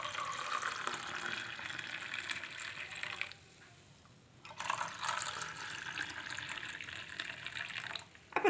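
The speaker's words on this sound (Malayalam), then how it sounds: "നല്ല ചൂടായ വെള്ളം അതുകൂടെ ഒഴിക്കാം" Hot water pouring steadily into a container, a brief pause partway, then the pour resumes and continues, close by with no talking.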